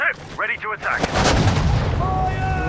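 Battle sounds from the WWII strategy game Sudden Strike 4, heavy artillery booms and gunfire erupting loudly after a short shouted voice, the rumbling blast sustained with high tonal game effects near the end.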